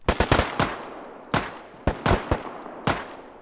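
Gunfire in a video game survival shooter: sharp, loud shots crack out in short clustered bursts, with a few single reports and brief pauses between volleys.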